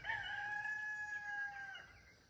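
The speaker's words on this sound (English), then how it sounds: "Of course, when I start a video, a rooster crows." A rooster crows once at a distance on a farm where a mustang is being handled, one long drawn-out call that fades after about two seconds against quiet outdoor background.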